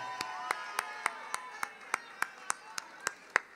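An audience at the Contempopranea 2017 music festival claps in a steady, even rhythm, about a dozen sharp claps roughly a quarter-second apart, fairly close and clear over a softer tonal background of voices or music.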